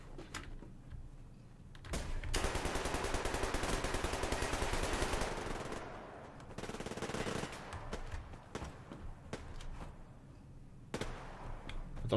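Gunfire in the video game Survarium, heard as a rapid, dense burst of automatic shots followed by shorter volleys and single reports, with mechanical clicks of reloading between them.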